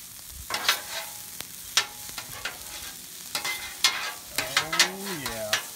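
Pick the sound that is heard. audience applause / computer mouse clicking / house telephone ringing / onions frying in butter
onions frying in butter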